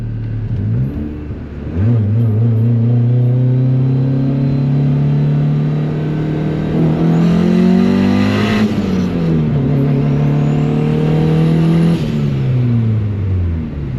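A turbocharged Honda Civic pulls hard through second and then third gear, its loud engine note climbing steadily, dropping at the shift, then rising again before easing off, recorded close from inside the car.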